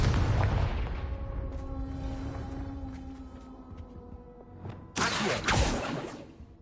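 The Confringo explosive spell goes off in the wizarding game Hogwarts Legacy with an opening burst that fades into a ringing, tonal hum, followed by a sudden sharp explosive crack late on, with no talking.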